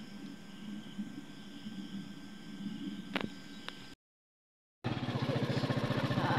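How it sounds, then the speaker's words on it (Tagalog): A motorcycle engine starts up after a short gap and idles loudly with a fast, even putter, following a stretch of quieter background noise. "So subukan natin yung motor natin."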